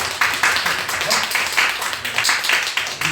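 Church congregation applauding a member's birthday, a steady wash of many hands clapping together in a room for several seconds.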